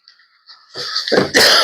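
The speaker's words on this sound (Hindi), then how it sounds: "आज खांसी बहुत हो रही है" A single harsh cough from a man, preceded by a faint breath, close to the listener with no talking.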